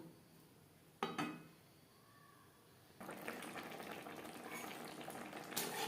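Chopped snake gourd (chichinga) cooks in a watery coconut gravy, first a quiet bubbling with a brief clatter, then a louder steady simmering hiss and bubbling close by, with no talk.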